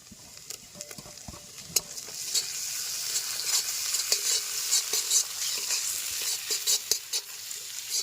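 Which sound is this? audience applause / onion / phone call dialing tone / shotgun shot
onion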